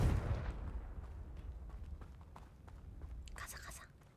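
A Confringo fire spell cast in Hogwarts Legacy, a heavy explosive boom at the start, then a rumbling tail with scattered crackles and a brighter burst near the end.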